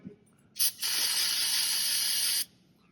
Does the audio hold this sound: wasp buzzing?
no